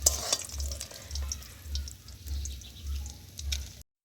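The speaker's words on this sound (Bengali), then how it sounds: "তো মাছগুলোকে আমি ভালোভাবে ভেজে নিলাম।" Fish pieces frying in hot oil for a home festival meal, a soft close sizzle with faint spatters and a rhythmic low thumping underneath, ending abruptly in silence.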